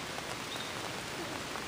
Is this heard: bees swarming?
no